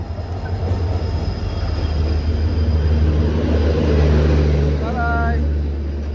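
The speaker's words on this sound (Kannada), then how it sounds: "ಇನ್ನೇನು ಟ್ರೈನ್ ಬರ್ತಿದೆ, ಜನರಲ್ಲಿಗೆ ಸೀಟ್ ಹುಡುಕ್ಬೇಕು." A train rumbles into a station with a low, steady drone, brakes squealing faintly near the end, while people talk nearby.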